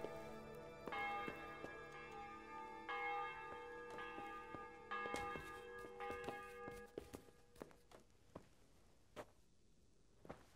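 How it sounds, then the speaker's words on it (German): Church bell tolling in the medieval video game Kingdom Come: Deliverance, several strong rich strikes with long ringing overtones that fade, followed by quieter scattered knocks and faint ambience; no talking. "Ja, ihr habt die Glocke gehört"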